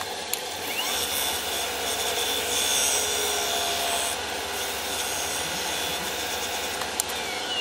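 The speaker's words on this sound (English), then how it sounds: "I'm applying cellulose sanding sealer now" Continuous rubbing hiss of a cloth applying cellulose sanding sealer to a turned wooden bowl spinning on a lathe, with a steady motor hum underneath.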